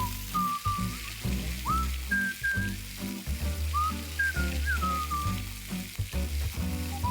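Ginger and green chilli paste with white sesame seeds roasting in hot oil in a pan, a steady close sizzle running throughout with occasional stirring, thin whistling tones drifting over it.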